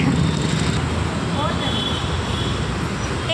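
A vehicle roars past close by on a road, a loud, steady rush of engine and tyre noise with a voice faintly underneath.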